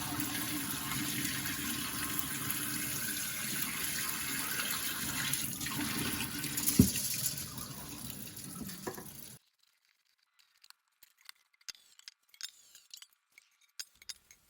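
Soaking water drained from black rice pours and gurgles steadily for several seconds, close and fairly loud, then stops abruptly, leaving near silence broken by a few faint drips and small clicks.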